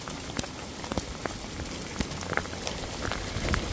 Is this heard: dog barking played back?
no